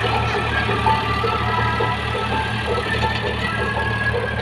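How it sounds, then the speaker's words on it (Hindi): A tractor engine runs steadily in a wheat field, a loud, close, continuous low rumble with a rough mechanical drone that keeps an even level throughout, with no voices. "यहाँ पे ट्रैक्टर आएगा।"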